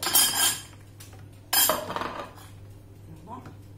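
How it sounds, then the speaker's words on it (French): A whisk pulled out of a Thermomix TM5 mixing bowl while making génoise and crème pâtissière gives two close metallic clatters with light clinks, then a quieter stretch of faint kitchen handling. "mon fouet, je le retire"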